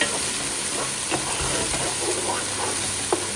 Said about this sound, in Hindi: चॉप कर लिया उसके बाद मैंने इसको गरम घी में डाल दिया और इसकी भुनाई कर लेनी है।